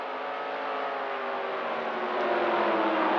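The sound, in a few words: race car blasting by in a NASCAR racing video game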